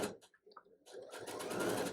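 Sewing machine stitching quilt fabric, a short soft start-and-stop and then a steady close mechanical whir that builds and runs to the end, fairly quiet.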